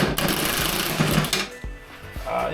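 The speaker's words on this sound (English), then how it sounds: "These big ol' impacts really do help." Impact wrench removing spindle bolts from the mower deck of a Husqvarna RZ4623 zero-turn, with a loud, close, rapid mechanical hammering whir that pauses briefly and starts again, with no talk.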